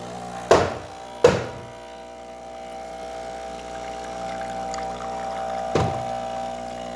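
A Breville espresso machine, freshly serviced with new O-rings, pulls a shot with a coarser grind: a steady pump hum runs throughout, punctuated by a few loud clunks near the start and one near the end.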